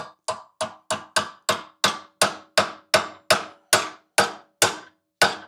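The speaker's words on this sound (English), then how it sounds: "I'm going to take a hammer and tap on these caps and see if I can get this." A hammer taps repeatedly on the universal joint bearing caps of a Mercruiser Bravo drive, roughly fourteen sharp ringing strikes at a steady, unhurried pace, close up and with no voices.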